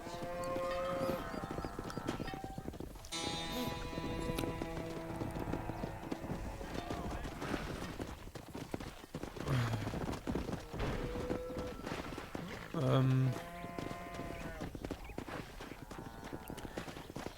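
Wild horses in the Red Dead Redemption video game, hooves clip-clopping steadily with occasional whinnies, mixed under game music and brief voices throughout.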